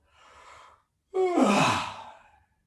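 A person yawns: a soft breathy intake, a brief pause, then a longer open-mouthed yawn rising and trailing off into a sigh, close and quiet.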